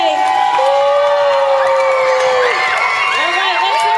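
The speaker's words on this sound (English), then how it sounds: "I'd like for FUSA kids to give themselves a round of applause for doing a great job today." Elementary school children at a Pink Shirt Day assembly cheer, shout and whoop loudly in a crowded hall, high excited voices overlapping with scattered clapping throughout.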